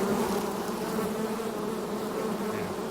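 Africanized honey bees buzzing densely at an open hive, a steady close swarm drone with no voices.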